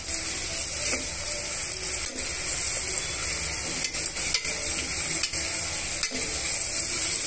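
Onion and green chilli pieces fry in a pan while being stirred for bagara rice, a steady loud sizzle with intermittent scraping clicks of a spoon against the pan, no talking.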